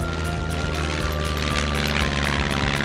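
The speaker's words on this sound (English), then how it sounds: "The seaplane is picking up speed and taking off." A cartoon seaplane speeding up for takeoff, a loud steady propeller drone with a rhythmic pulsing beat and a rising hum throughout.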